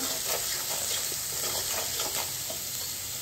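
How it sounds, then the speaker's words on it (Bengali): Potatoes sizzle and fry in a pan for dum aloo while a utensil stirs them, with a steady close hiss of hot oil and soft repeated scraping strokes throughout. "আমি নাড়িয়ে দিচ্ছি"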